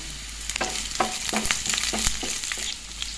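Chopped shallots and curry leaves fry in hot oil in a pan for a Kerala fish curry. A steady, loud sizzle runs throughout, broken by several sharp clinks and scrapes of stirring, with no talk.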